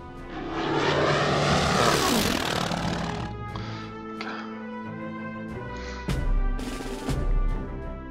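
A float plane's propeller engine in the strategy game Order of Battle Pacific drones loudly and sweeps past in pitch, then settles into a steadier hum punctuated by a few sharp bursts.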